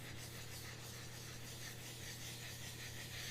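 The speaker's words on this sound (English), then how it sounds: "So sanding this or scuffing this essentially will give me that." Constant, even rasping of hand sanding or scuffing across a surface between finish coats, close and steady, with a low hum beneath it.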